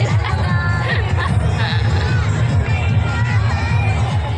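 A large, dense crowd at Chhath Puja in Muzaffarpur, Bihar, fills the air with continuous loud hubbub, shouting and cheering voices all around, with no single voice standing out.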